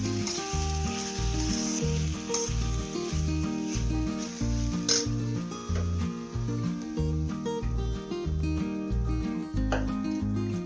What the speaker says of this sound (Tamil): நல்லா மிக்ஸ் பண்ணி விட்டுட்டு அடுப்பை ஆஃப் பண்ணிடலாம்